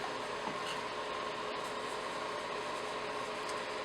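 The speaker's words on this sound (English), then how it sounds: "you can hear my fan in the background from my little heater." A steady, even whir of a small heater fan runs throughout, a constant broadband hum with no voices.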